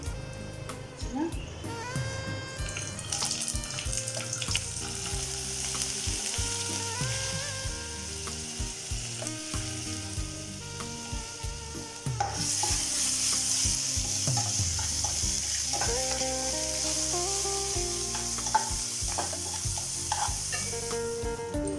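Bay leaf, whole garam masala, dried chilli and cumin sizzle in hot oil in a pan while being stirred for Bengali chana dal, with a louder burst of frying partway through and a voice speaking over it.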